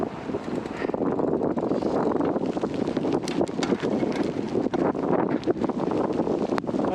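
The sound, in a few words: strong wind on snowy fat bike trails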